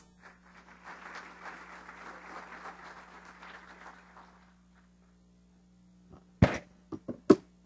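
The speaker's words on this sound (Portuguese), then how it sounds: "Peço que o recebam com uma salva de palmas." Applause welcomes a speaker at a telecom industry panel, a moderate round of clapping that fades after about four seconds, followed by near silence and a few sharp handling bumps.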